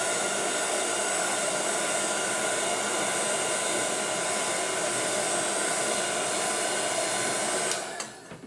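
A dryer blows air over an altered book journal page, a loud, steady, close whoosh that runs unbroken for most of the clip before cutting off with a few clicks near the end.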